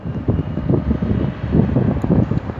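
Wind blowing across an open outdoor microphone, a steady rough rumble with gusty swells throughout, loud and alone with no voices.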